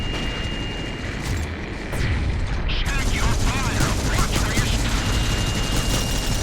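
Grenades going off during zero-gravity combat in a tactical shooter game, a burst of booms and mechanical clatter followed by a dense, loud rumble and crackle that keeps going.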